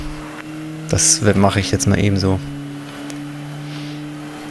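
DTM race car engine in the DTM Race Driver 2 video game, a steady drone with a lower engine note under brief speech.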